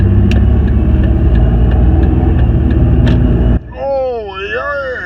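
A 1961 Buick's replacement used engine runs loudly and steadily with a low, truck-like rumble, then cuts off abruptly as a voice begins speaking.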